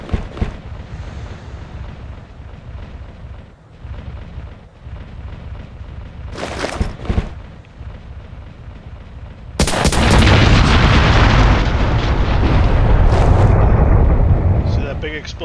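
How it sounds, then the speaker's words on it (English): Large artillery explosion at a military reenactment, where distant booms and crackling give way to a sudden loud, sustained roaring blast that rumbles on for several seconds. "Big explosion."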